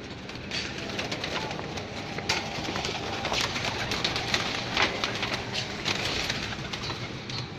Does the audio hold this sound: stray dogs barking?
no